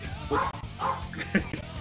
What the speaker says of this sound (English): That's my dog, Chloe, sorry.